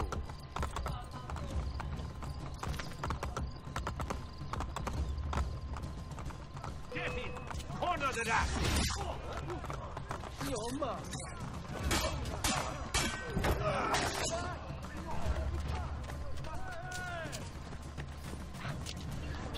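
Horse hooves clatter in a rapid gallop in Assassin's Creed Brotherhood, mixed with creaks, clanks, crashes and an occasional whinny, while voices talk over the action.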